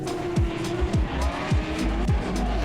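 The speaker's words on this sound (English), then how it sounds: "You hear the squeal from the 86s, right?" Toyota 86 drift cars on track at Baypark Stadium during a drifting championship final, repeated sharp rhythmic squeals with engine revs, about five bursts in quick succession, loud and close.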